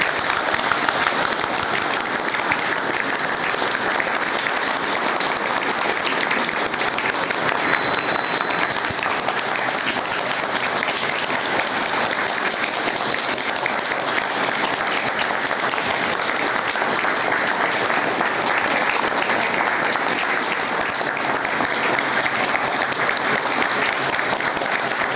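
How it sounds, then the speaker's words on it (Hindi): A group of people clapping their hands as fast as they can during a timed activity session, a loud, unbroken roar of clapping sustained for over twenty seconds. "30 सेकंड में आप लोगों को अपनी खुद से ताली बजा के खुद गिनना है कि आप कितनी ताली बजा सकते हैं"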